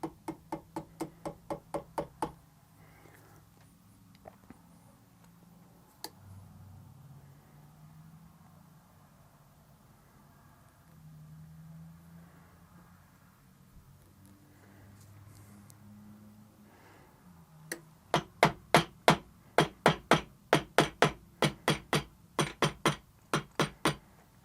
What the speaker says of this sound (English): I just dip the end in some glue, tap it into the hole, and trim it off.